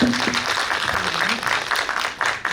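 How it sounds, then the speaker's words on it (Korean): Scattered clapping from an audience at a premiere talk show for a short-form drama, moderate and steady, with voices talking over it. "박수 부탁드립니다"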